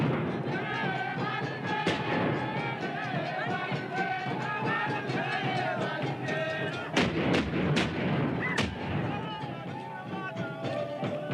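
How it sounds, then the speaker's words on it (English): Guns fired by Dogon men in a staged mock battle at a funeral, a dense, continuous barrage of loud bursts and cracks with crowd noise underneath and sharper single reports standing out near the end. "The Dogons say that the sounds of their guns are tears for a lost companion."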